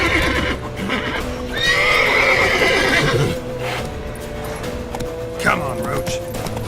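Roach, a horse in The Witcher 3, whinnies loudly with a rising neigh in the middle, over steady clip-clop of hooves and ambient game sounds, with a voice speaking over it.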